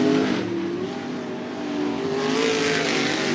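Limited sprint cars racing in a feature at Cottage Grove Speedway, a dirt oval, with engines revving loud and continuous as they work through the turns, the pitch rising and falling.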